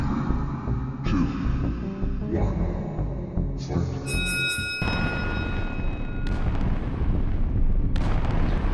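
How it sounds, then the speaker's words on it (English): Ship-mounted weapons in Space Engineers fire in rapid bursts of booming, explosive blasts layered over a steady hum and throb, with a voice talking over part of it. "His weapons are firing at some NPCs that have spawned near him."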